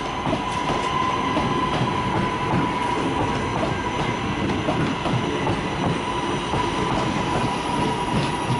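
A Class 323 electric train at Manchester Piccadilly station rolls past steadily, with a constant rumble and a faint high whine lasting throughout, loud and close with no talk.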